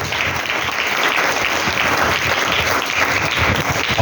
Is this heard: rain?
no